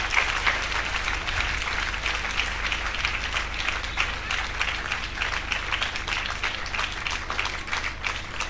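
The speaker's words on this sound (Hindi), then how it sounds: "कृपया तालियों की गड़गड़ाहट सुनाई देती रहनी चाहिए।" Audience applause at a church gathering in Udaipur, a dense, steady clapping from a crowd that holds at an even loud level throughout with no talk over it.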